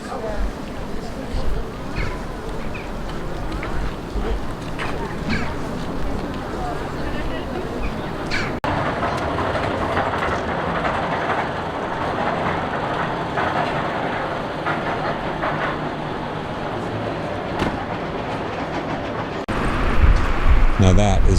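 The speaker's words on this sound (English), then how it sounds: "Another train." A train passing near Beddgelert, Wales, a continuous heavy rumble and rolling clatter that stays loud throughout, with a brief surge of noise near the end.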